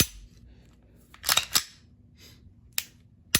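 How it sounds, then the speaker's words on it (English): Dry-fire trigger pull on a budget Glock clone pistol built on a Combat Armory frame: a cluster of sharp, close mechanical clicks, then two more isolated snaps, with no shot fired. "I'm gonna pull the trigger"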